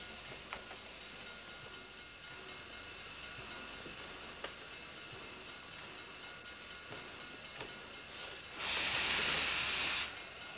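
Faint, distant rumble of a train backing up on a siding, with occasional clanks and creaks as cars shift slowly, ending in a loud burst of hissing air.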